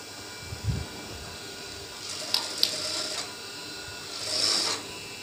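A sewing machine stitches a kameez seam in short bursts, a faint whirring run in the middle followed by a second brief run near the end, with light handling noise between and no speech.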